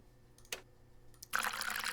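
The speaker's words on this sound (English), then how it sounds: "Now, notice that when we pour it in here, it fills up all the way." Liquid pours into a container in the Nancy Drew video game while mixing acids and water, with two short clicks first and then a bright, steady rush of pouring that runs to the end.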